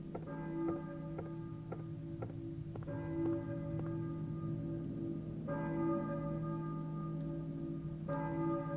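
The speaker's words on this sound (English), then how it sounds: "I hear a church bell, maybe?" Church bell tolling in the survival horror game Silent Hill, several resonant strikes with long ringing decay spaced across the stretch over a low droning ambience, no voices.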